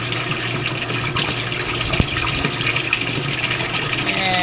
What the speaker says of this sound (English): we're watching the water come up